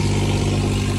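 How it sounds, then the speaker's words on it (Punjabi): A generator set up on a farm for a tractor job drones loudly and steadily, a dense low mechanical hum with strong harmonic buzz filling the moment, nothing else audible. "ਦੇਖੋ ਆਪਾਂ ਨੇ ਜਨਰੇਟਰ ਚਲਾ ਤਾ"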